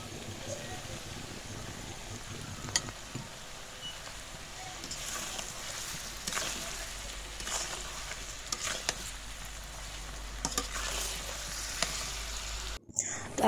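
Mango pieces frying in oil in a pan for homemade mango pickle, a faint, continuous low sizzle with occasional soft stirring scrapes and clatters, fairly quiet and distant throughout.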